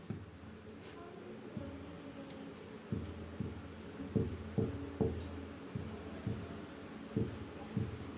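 Marker or chalk strokes on a board while writing notes, a series of soft taps and scratches at irregular intervals, faint under a low room hum.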